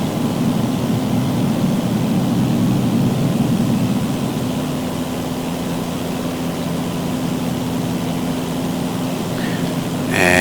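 A Cessna aircraft engine in Microsoft Flight Simulator 2024 drones steadily and loudly throughout, a constant propeller hum with no talk.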